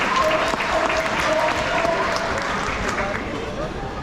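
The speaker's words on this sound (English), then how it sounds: "Let's all give them a big round of applause and help them to celebrate" An outdoor crowd at a sea lion show applauds for a birthday, a dense continuous clapping with background voices and chatter, tapering slightly toward the end.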